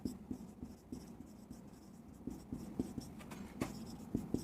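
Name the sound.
writing on a board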